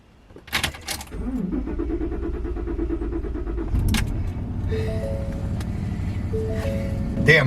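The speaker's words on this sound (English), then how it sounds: "Damn, my truck damn near didn't want to start." A van with a low battery cranks with a labored, rhythmic churning for a few seconds, then catches and settles into a steady idle, heard close up with some brief rattling.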